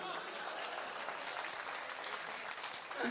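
Audience applause at an All India Mushaira in Delhi, a continuous crowd of clapping hands heard at moderate distance and steady level, with a voice joining briefly near the end.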